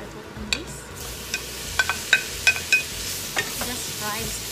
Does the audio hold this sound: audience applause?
no